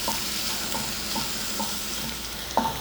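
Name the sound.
sliced onion sautéing and stirred for squid curry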